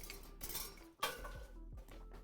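A small baby whisk clinks against a bowl in quick, light metallic taps, faint and close, with short pauses between strokes.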